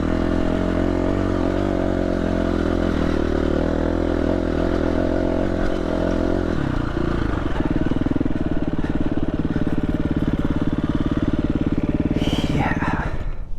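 KTM 350 dirt bike engine pulling loud and steady under load on a climb, a droning idle-like rumble shifting around seven seconds into a harder, throatier revving roar that holds to the end, with a brief higher whine near the close.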